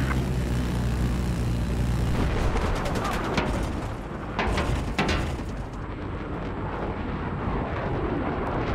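Video game combat with an enemy helicopter rumbling overhead while rapid gunfire and loud blasts crackle through the mix, a dense, continuous battlefield roar with sharp bursts in the middle.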